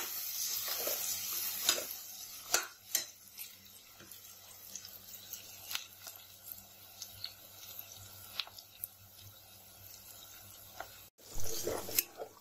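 Asafoetida and ingredients frying in a home kitchen pan for rajma, a steady low sizzle with scattered stirring clicks and scrapes, fairly quiet and continuous, with a louder burst of stirring near the end.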